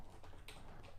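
Fingers type a short run of keystrokes on a computer keyboard during a programming session, the soft clicks close and fairly quiet with no one speaking.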